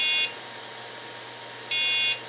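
An IBM PS/2 Model 25 sounds a POST error beep with no RAM installed: two steady, shrill electronic beeps, the first cut off at the start and the second a short pause later, over a low hum.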